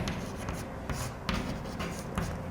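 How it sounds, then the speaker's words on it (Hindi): Writing strokes scratch across a board during a Class 10 science lesson, several close, quick rubbing scrawls in uneven bursts, without any talk. "तो देखो इसकी बात अपन लिखते हैं"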